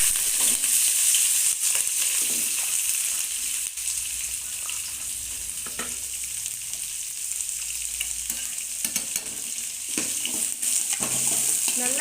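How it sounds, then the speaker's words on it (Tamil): Small onions, green chillies and curry leaves sautéing in hot oil for a mutton dish, giving a steady close sizzle with occasional stirring scrapes throughout, no voices. "இதுக்கு வந்து வெங்காயம் வதங்கட்டும்."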